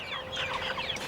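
Cornish Cross chickens foraging in a homemade chicken tractor make a brief run of soft clucks and chirps at close range.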